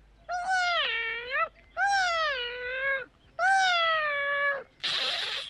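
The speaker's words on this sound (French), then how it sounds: "Si les roses ont des épines, c'est parce que les roses sont les chats des fleurs. La preuve, elles miaulent." A cat meows three times in long, drawn-out, clear wails, played as a meowing rose in a puppet show, followed by a brief noisy hiss or breathy burst at the end.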